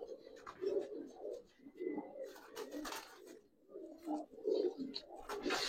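Giribaz khaki and silver pigeons coo repeatedly in a loft in low, throaty phrases, several birds overlapping at close range, with faint higher chirps in the background.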